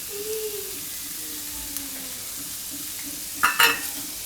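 Vegetables cooking with salt in a pan for a rotli Manchurian dish hiss in a soft, continuous sizzle, near and moderate, with a few stirring scrapes and a sharp clatter of a utensil near the end.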